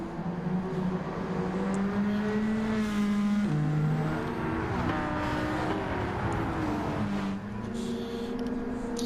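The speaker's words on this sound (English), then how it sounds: "drifting that Porsche around the corner" A Porsche 911 GT3 race car drifts around a corner at the Nurburgring during a GTCC championship race, its engine a steady loud drone with pitch dips and rises as it slides, and other cars running alongside.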